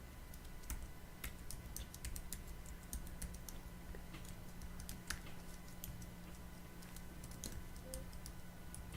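Typing on a computer keyboard while working with typeface letter forms: quiet, irregular key clicks tap steadily throughout over a low background hum, with no talking.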